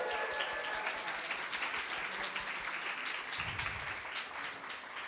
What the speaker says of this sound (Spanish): Un aplauso a Diego Porral.